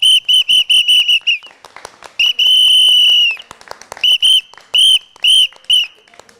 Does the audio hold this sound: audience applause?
no